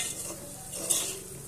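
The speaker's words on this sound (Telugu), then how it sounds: "అడగంటకుండా తిప్పుకుంటూ ఉండాలండి" Arvi (taro) being stirred with chili powder in a frying pan, giving a steady sizzle with a spoon scraping and stirring close by, and no voices.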